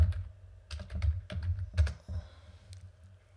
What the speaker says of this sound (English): We're going to type in configmap.